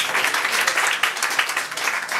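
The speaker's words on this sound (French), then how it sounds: "on l'applaudit encore" Audience applause at a third-anniversary evening celebration, a steady burst of many hands clapping close by for about two seconds with no voices over it.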